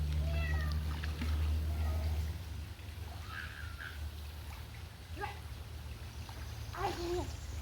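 A voice imitates a cat, making several short rising and falling meows over a low steady hum and soft background noise outdoors.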